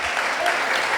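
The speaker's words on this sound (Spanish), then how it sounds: "¿Cuánto le dan un aplauso al Señor por eso?" A church congregation applauds during a Tuesday worship meeting in a brief, dense burst of many hands clapping, with no pause.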